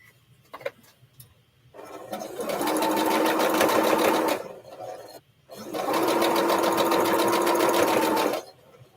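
Sewing machine stitching a quarter-inch seam on a quilt block, two steady whirring runs of several seconds each with a rapid needle rhythm, close and clear, separated by a brief pause with a few faint clicks before.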